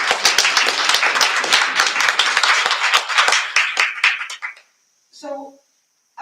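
An audience at a Women's History Month event applauds, dense clapping that is loud and sustained for about four seconds before fading out, followed by a short burst of speech and then silence.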